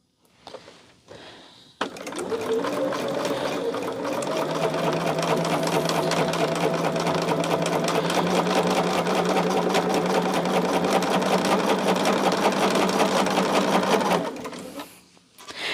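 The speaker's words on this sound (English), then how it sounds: "We're almost done with sewing our half square triangle." A sewing machine stitches half square triangle quilt pieces in one long steady run, a close, even whirring hum with rapid needle ticking that starts after a brief pause and stops near the end.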